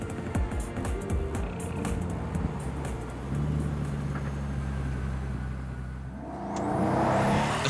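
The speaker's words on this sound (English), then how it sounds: "As the Huayra rockets off down the main straight, the flaps are kept down." A Pagani Huayra supercar with active aerodynamic flaps held down accelerates along a main straight, its engine whirring and climbing in pitch, fairly distant at first and then swelling louder toward the end.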